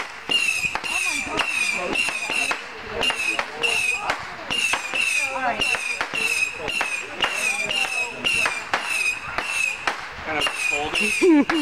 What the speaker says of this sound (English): Here's some fireworks that it looks like we're probably going to set off.